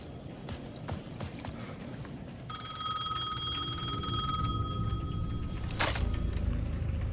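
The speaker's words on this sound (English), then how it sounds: "The payphone at the edge of the plaza was ringing again." In the Alan Wake video game, a payphone at the edge of a plaza rings with a bright electronic trill that starts partway through, ringing steadily over footsteps and ambient game noise before a sharp burst near the end.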